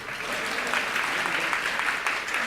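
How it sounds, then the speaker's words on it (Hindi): Dense, steady applause from a large audience at a Hindi-language religious discourse, continuous broadband clapping filling the whole stretch with no pauses and a faint murmur of voices underneath. "एक बार ताली तो बजा दो।"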